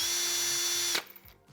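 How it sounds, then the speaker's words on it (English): A Hercules 1/2-inch power drill runs at a steady, loud whine for about a second, then switches off and spins down into near quiet. "The performance of the Hercules 1/2-inch drill does everything I need it to do"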